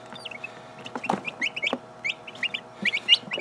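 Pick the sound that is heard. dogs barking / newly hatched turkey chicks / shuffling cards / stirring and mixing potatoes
newly hatched turkey chicks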